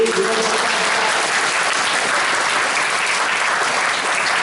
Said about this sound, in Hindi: तो आप जोरदार करतल तालियों की ध्वनियों के साथ अपने महासचिव